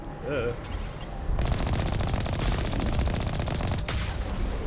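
Automatic weapons fire in the sci-fi video game Mass Effect, with loud, sustained rapid bursts that roll on almost without pause, layered with other dense game sounds.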